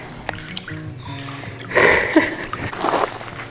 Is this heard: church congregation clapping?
no